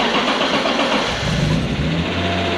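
A BMW E36 race car, used for drifting, has its engine cranked and caught, then settles into a steady, fairly loud rumble close by with no one talking over it.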